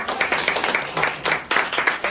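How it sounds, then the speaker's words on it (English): An audience at a panel event on big data claps in a steady, fairly loud round of applause that carries through the whole clip with a regular, dense rhythm. "Clap your hands."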